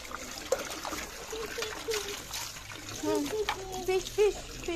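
A child splashing and paddling while swimming in water, with irregular close splashes and dribbling water under frequent talk and encouraging voices.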